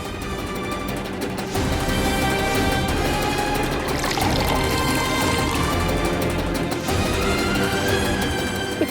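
Water is poured for drinking in a steady, continuous flow that fills a vessel for several seconds, fairly loud and close against a dense background.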